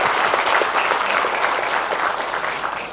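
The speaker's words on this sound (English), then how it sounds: "please give a big round of applause for the management" A crowd at a company annual general meeting applauding steadily, dense clapping that holds for a few seconds and slowly tapers off.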